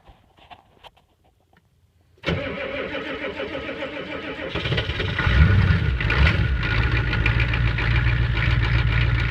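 A 1987 Ford E350 cabriolet van's engine cranks and catches after a quiet start, then settles into a loud, steady rumbling idle with a slight knock, with no talking.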